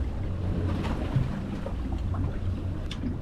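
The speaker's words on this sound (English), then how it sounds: "you're probably gonna have to drive the boat a little bit" A fishing boat engine running steadily while manoeuvring during deep-water snapper fishing, a dense, continuous low rumble mixed with water and wind noise, loud and close with no voices.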